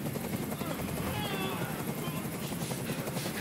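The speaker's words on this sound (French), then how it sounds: "Fais dégager cet hélicoptère, maintenant!" A helicopter hovers overhead during a tense hostage scene in the video game Detroit: Become Human. Its dense rotor thrum is loud and continuous throughout, with faint voices mixed in.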